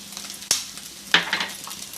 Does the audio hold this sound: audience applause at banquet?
no